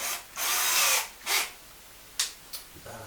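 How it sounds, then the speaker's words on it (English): A power drill whirs in several short bursts while enlarging a hole in a floor for a toilet floor plug, two longer runs followed by a couple of quick blips, close by with quiet gaps between. "So I'm just going to drill that out a little bit more"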